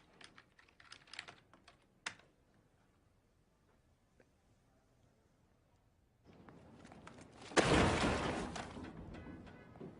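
Quick bursts of computer keyboard typing, sharp key clicks in the opening seconds, followed by a louder noisy rush after a lull; no talking.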